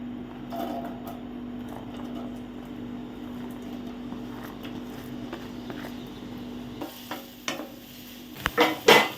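Onions fry in oil in a kadai, a soft steady sizzle with a low hum underneath, then louder clattering and stirring knocks near the end, with no voices.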